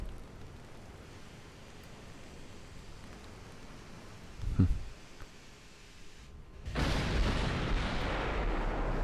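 Naval gunfire in the battlecruiser game Ultimate Admiral: Dreadnoughts, with a single deep boom from a shot or shell hit midway, then a louder rumbling roar of fire or impacts that carries on to the end.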